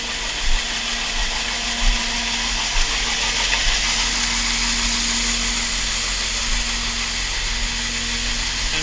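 A grain auger unloads dry corn with a steady, loud mechanical drone and a low engine hum underneath, holding constant throughout with a few faint knocks.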